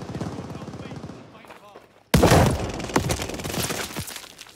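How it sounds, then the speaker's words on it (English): Shotgun fire in the video game Call of Duty: Vanguard: a quiet stretch of game sound, then a sudden loud blast followed by further sharp, dense reports and crackling impacts. "let's go shoot some people with a shotgun"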